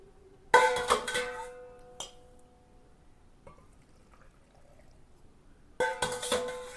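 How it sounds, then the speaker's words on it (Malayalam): Salt water is poured over mangoes being preserved, heard as two close splashing pours with glassy clinks at the start and end, a quiet gap with a few small knocks between them, and no talking. "ഉപ്പുവെള്ളം ഒഴിച്ചു കൊടുക്കാം"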